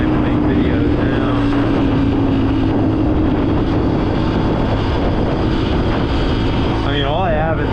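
A dirt bike engine drones loud and steady while riding on back roads, wind rushing over a constant roar, with a brief rising rev near the end.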